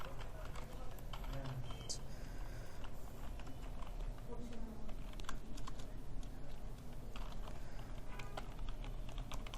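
Rapid, uneven typing on a computer keyboard while a winter fast-food Facebook ad is written, a steady patter of close key clicks running the whole time over a low background murmur.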